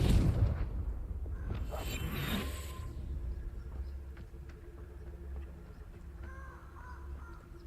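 A Confringo blasting curse fired in Hogwarts Legacy lands as a loud, sharp burst at the start, then decays into a rumbling crackle. Quieter ambient rumble and scattered faint clicks follow.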